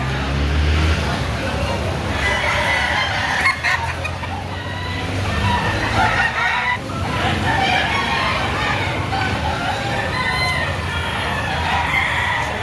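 Roosters and chickens at a busy poultry market in the Philippines, with repeated crowing and clucking mixed into steady crowd chatter, people talking, and background noise.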